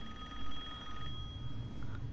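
A telephone rings faintly in Resident Evil Village, a thin steady electronic ring over low background rumble.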